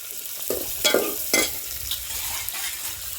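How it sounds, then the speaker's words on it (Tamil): Onions sauté in hot oil with mustard seeds, giving a continuous close sizzle with a few louder crackling bursts as a spoon stirs the pan, with no voices. "எண்ணெய் ஊற்றினது நல்லா கடுகு பொரிஞ்சோடனே வெங்காயத்தை போடுங்க"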